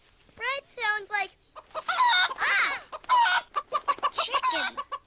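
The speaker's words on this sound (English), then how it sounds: "Chicken." Chicken clucking, a rapid series of close, loud clucks and squawks in uneven bursts, with some vocal sounds mixed in.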